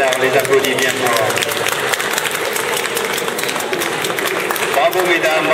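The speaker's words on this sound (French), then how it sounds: "on les applaudit bien fort" An audience applauds performers after a demonstration at the Chantilly stables, with steady dense clapping that carries on throughout, overlaid by a voice speaking.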